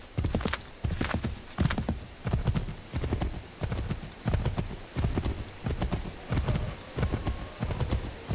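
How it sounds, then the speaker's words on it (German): Rhythmic clip-clop of horse hooves at a steady gallop in the video game Assassin's Creed III, repeating in even beats with a faint whinny, fairly close. "So, wir reiten jetzt mal"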